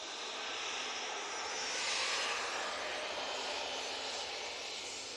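A TUI airliner crossing the runway at Manchester Airport, its jet engines producing a steady broadband roar that swells slightly midway, heard at moderate distance with no talking.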